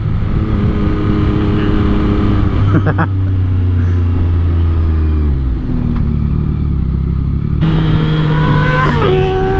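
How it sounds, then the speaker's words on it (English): A loud ECU-tuned 2022 Yamaha MT-09 engine roars up close, revving and dropping through gear changes with rushing wind noise throughout. "Man, that bike is so loud."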